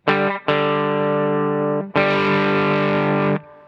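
An electric guitar through its bridge pickup plays two sustained, distorted chords, each ringing for about a second and a half. A pedal boosts the amp's front end into a thick, saturated drive, heard dry without reverb.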